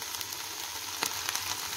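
Chopped herbs, green onion, dill and coriander fry in a pan with a steady, close sizzle and a brief scrape of stirring partway through, with no voices.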